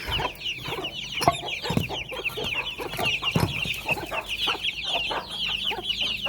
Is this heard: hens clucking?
yes